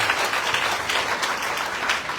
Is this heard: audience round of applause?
yes